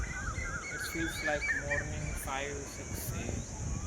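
Several birds call in the evening, chirps and higher calls overlapping in scattered bursts at moderate distance over a steady background hum.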